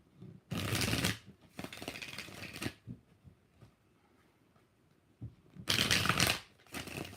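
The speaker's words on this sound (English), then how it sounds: "Let's shuffle it again." Tarot cards are shuffled by hand in several loud riffling bursts with quieter rustles and taps between them, close up, with no voices.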